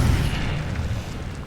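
An Incendio fire spell cast in Hogwarts Legacy bursts out as a loud, dense low rumble that holds steady for about a second and a half, with no talk over it.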